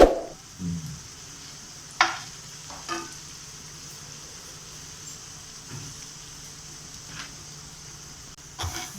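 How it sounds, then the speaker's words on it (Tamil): Banana pieces roast gently in a little ghee in a pan, giving a faint, steady sizzle with a few soft clinks and stirring knocks scattered through it. "நம்ம ஸ்லைட்டாக ரோஸ்ட் பண்ண போகிறோம், அவ்வளோதான்."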